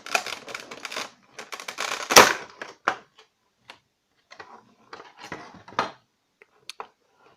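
Packaging of an S.H. Figuarts Super Saiyan Son Goku figure being opened: close crinkling plastic, rustles and sharp little taps in uneven bursts separated by quiet gaps, with no speech.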